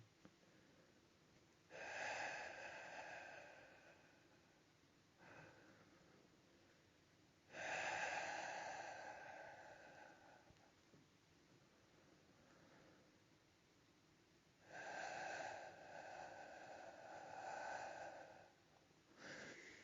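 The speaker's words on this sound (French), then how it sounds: "il put entendre une respiration." Slow, calm breathing close up: three long, soft, airy breaths spaced several seconds apart, faint and alone over a quiet background hiss.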